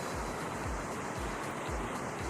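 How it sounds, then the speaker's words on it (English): A waterfall in the VRChat video game rushes steadily, a dense broadband roar that stays loud and unbroken, with faint periodic low thumps beneath it and no talking. "I do not know how loud that waterfall is, but my apologies in advance if it's really loud."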